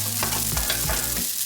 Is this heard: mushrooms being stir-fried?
yes